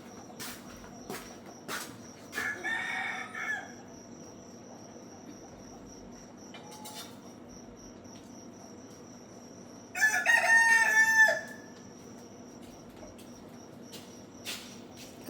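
A rooster crows twice, loud and near, in two separate bursts over a steady backdrop of chirping crickets and scattered faint clucks.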